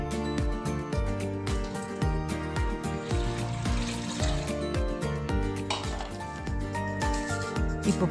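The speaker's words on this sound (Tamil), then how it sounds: "வெட்டின கருவாடை வெந்நீர்ல 2 அல்லது 3 முறை நல்லா கழுவணும்." Cut Burma dry fish being washed in hot water in a metal vessel, with continuous clinking, sloshing and rhythmic knocks of the pot.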